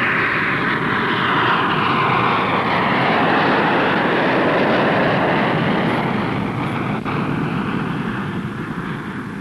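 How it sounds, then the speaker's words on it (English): A National Airlines airliner taking off from the runway, a loud, sustained broadband engine roar that holds steady before easing slightly toward the end. "As National 185 climbs from the runway"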